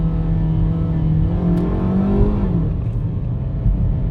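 A 2016 Jeep Patriot Sport four-cylinder engine revs loudly and close, its pitch climbing smoothly then settling, with a continuous throaty drone throughout.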